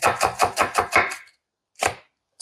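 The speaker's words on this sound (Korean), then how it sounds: "최대한 얇게 채를 썰어줄 거예요." A knife thinly slices an onion on a cutting board for a Korean hangover soup with dried pollock and bean sprouts, sounding as a quick run of six close, crisp chops, a pause, then one more.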